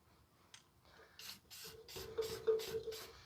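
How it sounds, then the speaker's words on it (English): Rust Check rust killer sprayed from an aerosol can onto the exhaust area of a 2004 Toyota Matrix 1.8, a series of close, hissing bursts that grow steadier and louder over the last two seconds. "So we're just going to spray paint the area down."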